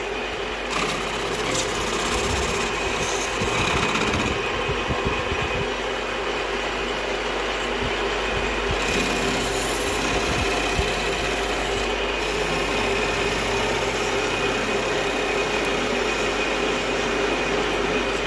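A lathe spins at 1200 rpm, machining a KTM shaft held in the chuck, giving a steady, continuous mechanical whir with a faint scraping texture from the cut, close and even throughout with no talking.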